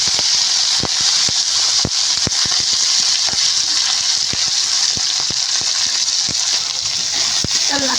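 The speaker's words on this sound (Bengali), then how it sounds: "এবার কাঁকড়াগুলো আমি কিন্তু লাল লাল করে ভেজে দিই" Crabs fry in hot oil in a kadai, giving a loud, steady sizzle with sharp pops and crackles scattered throughout.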